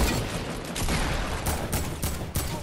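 Gunfire aimed at the player in a squad battle video game, a dense continuous crackle of shots with a few sharper bursts toward the end, fairly close.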